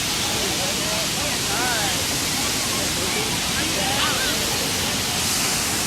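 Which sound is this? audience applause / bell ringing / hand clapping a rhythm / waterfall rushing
waterfall rushing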